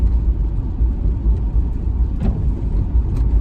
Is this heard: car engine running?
yes